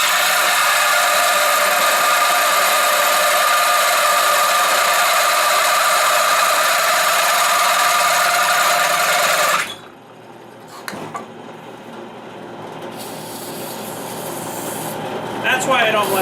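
A power drill runs with a steady high whine for about ten seconds, then stops, leaving quieter handling noises and faint motor bursts.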